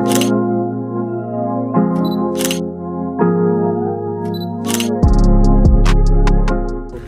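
Several camera shutter clicks ring out from a single-lens reflex camera set to a shutter speed of about 1/3200 during a natural light portrait shoot, spaced a second or two apart, sharp and close over a steady background tone.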